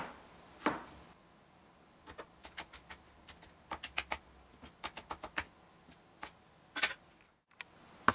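A knife chops broccoli stems into very small pieces on a cutting board, making sharp, close taps in irregular runs with short pauses between them, and no talk in the clip.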